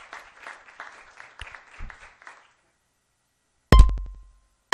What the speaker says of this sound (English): Now, as you can see, my claps are behind